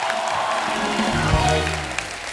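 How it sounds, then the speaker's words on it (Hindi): A studio audience on a comedy talk show claps warmly for Nigerian Afrobeat star Rema. The loud, even clapping lasts a couple of seconds with a brief voice rising through it. "जोरदार तालियां रेमा के लिए"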